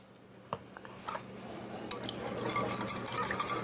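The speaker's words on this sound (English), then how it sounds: "we're going to whisk it to try and emulsify it" A whisk clinks against a bowl, beating red wine vinegar with Dijon mustard, salt and pepper into a creamy dressing; scattered taps build into quick, continuous close metallic rattling.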